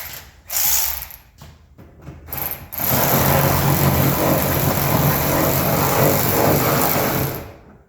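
A power ratchet runs bolts down on the restored gas tank of a 1955 Dodge. Short bursts of tool whirring come first, then one long, loud, sustained run, all close by and with no voices.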